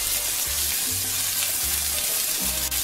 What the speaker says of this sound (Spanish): Ahora aquí en el sartén vamos a freír el chile serrano, el ajo y el trozo de cebolla.